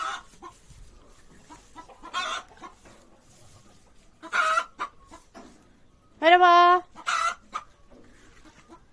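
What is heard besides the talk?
chickens clucking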